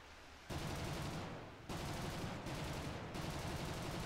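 Sustained bursts of rapid gunfire from a simulator battle video game, loud and dense, cutting out briefly between long volleys with no voices.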